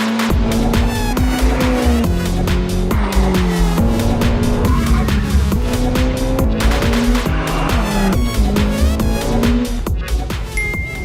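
Ferrari F8 supercar accelerating hard, its engine loud and close with rising and falling gear-change tones and tire squeal throughout, continuous with no talking.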